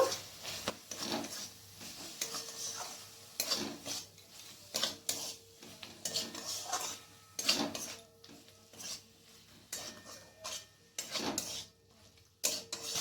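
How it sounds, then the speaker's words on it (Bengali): Chopped capsicum frying with spices for a paneer dish is stirred with a spatula against the pan, giving intermittent scraping and clattering strokes with soft sizzling between them, close and fairly quiet. "1 মিনিটের মতো মশলার সাথে ভালো করে ভেজে নেব।"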